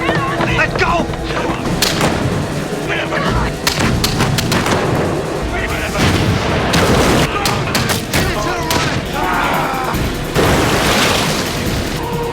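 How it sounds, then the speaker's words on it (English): Dramatized gunfire as criminals escape, dense cracks and booms layered with shouting and tense background sound, loud and continuous throughout the scene. "These criminals, escaping gunfire,"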